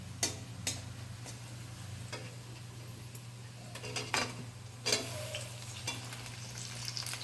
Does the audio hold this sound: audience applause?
no